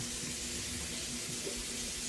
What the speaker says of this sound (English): I'm gonna get over here and turn this water on so it can be getting hot.